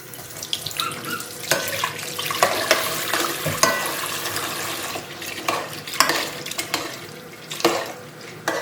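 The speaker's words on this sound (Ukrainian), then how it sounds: "Холодною водою промиваємо." Cold water runs steadily from a tap into a bowl while homemade butter is rinsed and stirred, with intermittent clinks and splashes, close up and no talking.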